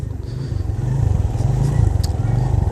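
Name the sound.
Suzuki GS150SE motorcycle being ridden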